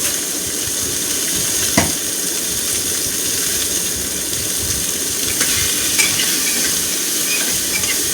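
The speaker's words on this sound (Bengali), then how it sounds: "এবার একটু নাড়াচাড়া করছি।" Chopped garlic, ginger and tomato frying in a pan, a close, loud, continuous sizzle with brisk scraping stirring and a few sharp utensil knocks.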